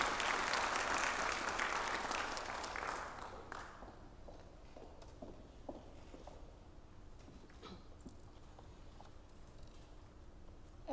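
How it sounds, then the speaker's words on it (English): Warm round of applause from the audience at a 2021 high school National Honor Society induction, a full burst of many clapping hands that fades out after a few seconds into a quiet hall with faint shuffling and scattered small noises. "Please welcome her with a warm round of applause."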